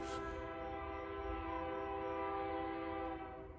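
Train passing near a home garden while sounding its horn, a sustained chord-like blast held for several seconds over a low rumble, heard from a distance and without talk.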